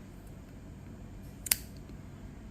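Scissors snip the end of a crochet yarn with a single quick, crisp cut. It stands out against quiet room tone with no one speaking.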